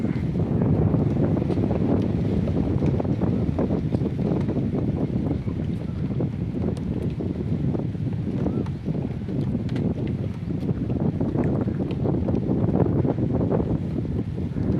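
Strong sea wind blows steadily across a floating pontoon bridge at a river mouth on the coast, a constant loud roar and buffeting against the microphone with no clear breaks.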